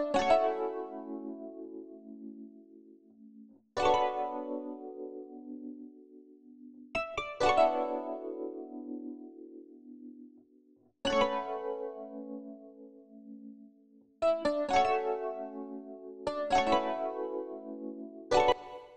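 Soft, mellow keyboard chords strike and decay in a slow, repeating pattern, with a warm, muffled, low-fidelity tone and no voices.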